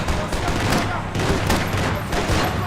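Dense bursts of gunfire from the video game Max Payne 3 crackle loudly and continuously, like rapid overlapping shots, with voices faintly underneath.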